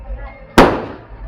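A single loud firecracker bang goes off nearby during a street celebration for a returning Sabarimala pilgrim, a sharp burst that decays over half a second amid faint background chatter.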